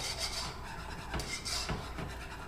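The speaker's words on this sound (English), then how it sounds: "Whisk that together." Salt being whisked into a spinach dip mixture in a bowl, a close, rhythmic scraping and rubbing of the whisk in quick repeated strokes, with no voices.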